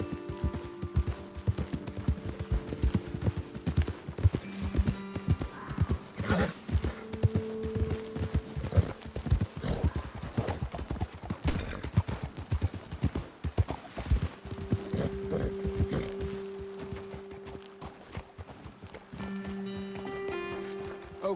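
Horses' hooves clip-clop steadily in a video game, riders moving along at a walk with occasional louder stretches and a whinny-like tone, the rhythmic footfalls continuing through the whole passage.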